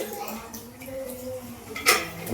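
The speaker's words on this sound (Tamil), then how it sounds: "கடாயில போட்டு போறோம்." Food is tipped into a metal kadai pan, giving a brief clatter of metal and utensils about two-thirds of the way through, with faint talk in the background.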